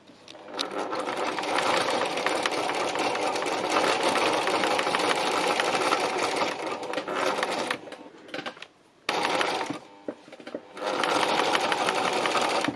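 A sewing machine stitches down wool fabric around the edge of an autumn landscape textile piece, running in long steady bursts with a brief pause midway, loud and close, no talk.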